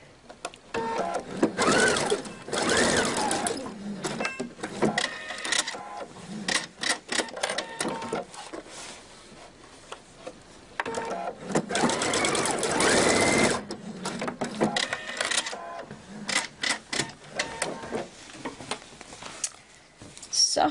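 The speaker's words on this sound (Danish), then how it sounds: "jeg syede dem selvfølgelig på ret mod ret, så båndet kommer frem her" A sewing machine stitching long bag straps onto the back piece of a belt bag, running in loud rapid bursts separated by short pauses, close up.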